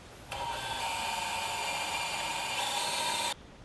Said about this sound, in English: I'm going to drill these holes as carefully as I can.